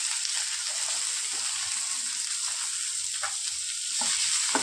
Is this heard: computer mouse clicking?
no